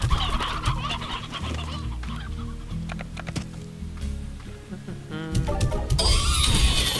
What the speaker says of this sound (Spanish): Mis gallinas.